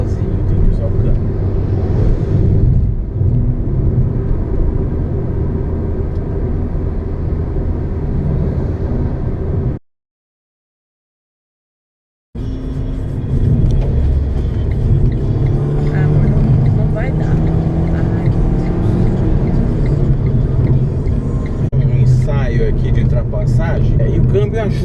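A JAC T40 CVT 1.6 engine drones steadily from inside the cabin while driving, a low continuous hum with road noise underneath, briefly cut to silence midway, as someone talks over it.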